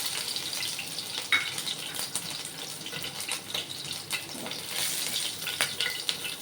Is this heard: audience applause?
no